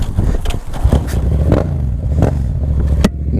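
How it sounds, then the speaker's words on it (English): A Harley-Davidson motorcycle engine catches after a bump start, giving a loud, close rough rumble with uneven bursts of revving and some clatter. The engine cuts out at the end. "how to jumpstart a motorcycle"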